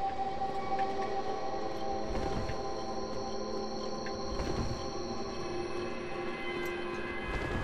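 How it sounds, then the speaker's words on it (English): An ambient siren from the video game Dark Souls, a low sustained wailing drone with layered tones, steady and moderately loud throughout with no talking. "Which I originally thought was just the soundtrack for this place, but apparently no, that's the siren."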